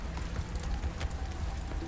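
Hail falls in the video game Subnautica Below Zero, pelting down among rocky boulders as a steady, dense patter that stays fairly soft and continuous throughout.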